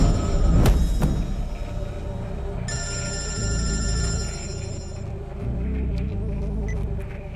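A telephone rings in a film scene, a steady electronic ringtone sounding for a couple of seconds over low rumbling background noise, with a sharp thump near the start.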